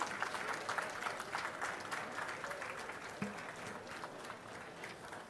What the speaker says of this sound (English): May I request everyone kindly raise and welcome with a warm round of applause